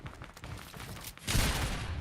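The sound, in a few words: gunfire in the video game Fortnite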